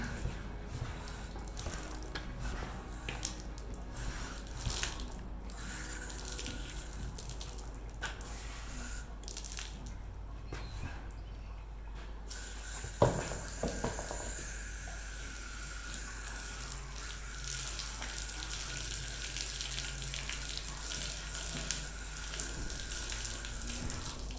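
Hose water runs steadily while rinsing conditioner out of a horse's thinning mane, a soft continuous splash and trickle with occasional squishy handling sounds close by.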